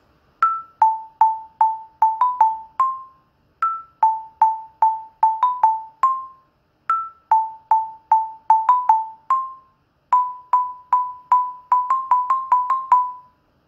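Orff xylophone struck with mallets through a Halloween melody in four repeated phrases, each a run of clear wooden notes ending on a held tone, bright and close with no talking.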